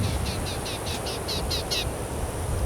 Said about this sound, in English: Bell's vireo,